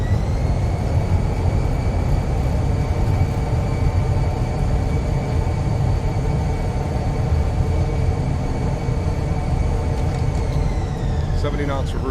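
Steady, loud engine roar from a Fenix A320 on landing rollout in Microsoft Flight Simulator with thrust reversers deployed, a sustained broadband rumble with whining tones that shift near the end.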